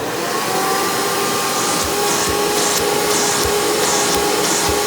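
A Hoover PowerMax II upright vacuum cleaner with a 12 amp motor and 20-blade fan runs steadily and loudly up close, giving a continuous whirring drone with faint rhythmic bumps beneath it.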